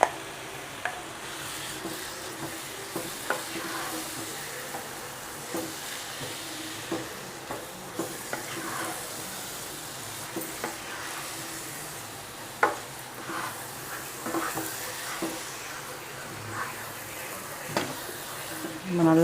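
400 grams of paneer stirred into gravy in a pan during paneer bhurji, a low continuous sizzle with soft scraping and tapping from the stirring, close and moderately quiet. Intermittent talk sits under the cooking.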